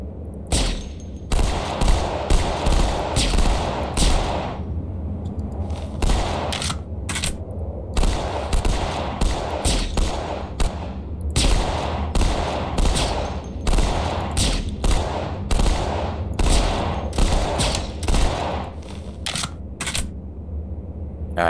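Rapid volleys of pistol gunfire in a Halo roleplay match, sharp close shots fired in quick irregular bursts with brief pauses, loud and continuous throughout with no talking.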